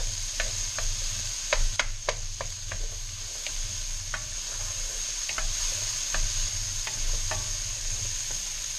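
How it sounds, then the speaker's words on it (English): Chopped onions cooking down in a pan, a steady close sizzle with repeated ticking scrapes and taps of a utensil stirring, alone without voices. "We're going to cook this down now until the onions become tender."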